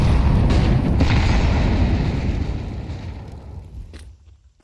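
Heavy booming grenade blasts in Counter-Strike during a professional esports match, a loud rumbling wash that stays dense for a couple of seconds and then tapers away, with no talk over it.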